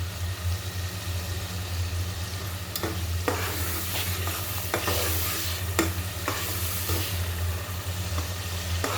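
Two small tomatoes fry with spices for a mung dal and fish-head muri ghonto, sizzling steadily up close while a spoon stirs and scrapes the pan in repeated sharp strokes.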